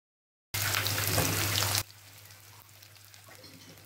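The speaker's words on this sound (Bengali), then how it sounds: "তেল গরম হলে আমি এর মাঝে পেঁয়াজ কুচিগুলো দিয়ে দেব।" Chopped onions dropped into hot mustard oil in a wok set off a loud, hissing burst of sizzle that drops abruptly after about a second to a softer, steady frying crackle.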